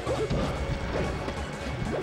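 Several punchy hit impacts ring out during a Super Smash Bros. Melee doubles tournament match as a forward smash connects, set against busy game effects and venue noise.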